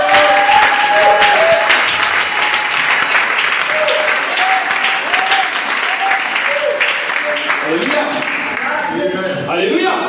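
A church congregation at a Sunday service claps and cheers in acclaim of God, producing loud, sustained applause mixed with voices and calls throughout.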